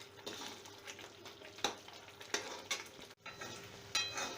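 A bottle gourd curry base fries in a pan with a soft steady sizzle, broken by several sharp clinks and scrapes of a spoon stirring against the metal.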